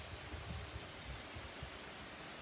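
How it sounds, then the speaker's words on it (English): Steady heavy rain pours down during a strong thunderstorm, a dense continuous hiss with low rumbling patter, no voices. "it's actually raining hard"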